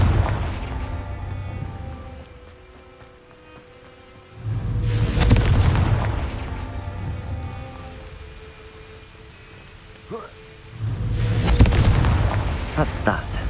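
Booming fire-spell explosions from the video game Hogwarts Legacy sound twice, each a loud burst that then fades into a rumbling crackle, with a brief voice in between.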